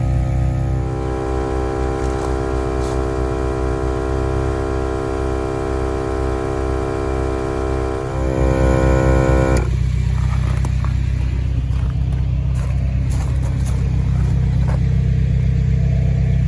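A Viair 300P portable air compressor pumps up tyres with a loud, steady mechanical drone and buzzing hum, close by and unbroken, its tone shifting slightly partway through.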